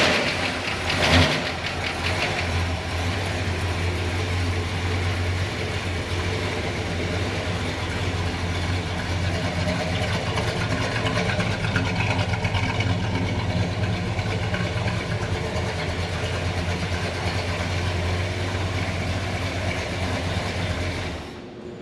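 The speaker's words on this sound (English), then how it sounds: "we might get to hear this car crank up" 1970 Plymouth Fury III V8 engine cranking, firing up, then settling into a steady rumbling idle, a low, continuous throb heard from close by for about twenty seconds.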